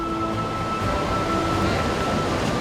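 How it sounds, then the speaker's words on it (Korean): Rushing water pours down the Kompaphaeng stepped waterfall in a dense, continuous roar, steady and close throughout with no break. "세계 최대의 계단식 폭포로 알려진 콤파팽 폭포의 최고 볼거리는 단연 초당 수백만 리터씩 쏟아지는 거친 물살이다"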